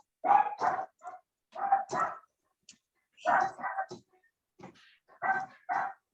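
A dog barks repeatedly in short bursts, some single and some doubled, with brief quiet gaps between them, fairly close and moderately loud.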